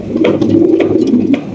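A large yellow Lahori pigeon coos loudly and close by in a rolling, throaty phrase of about a second and a half, with a few light clicks over it.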